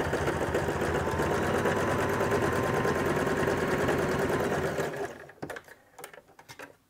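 A domestic sewing machine fitted with a size 14 needle stitches synthetic Montana fabric in a loud, fast, steady mechanical whir for about five seconds, then stops, leaving a few soft handling clicks and knocks.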